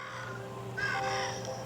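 Birds in the video game Monument Valley let out harsh, crow-like caws, one call sounding alone over a steady background hum.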